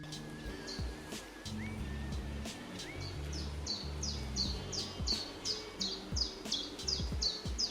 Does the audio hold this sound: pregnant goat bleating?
no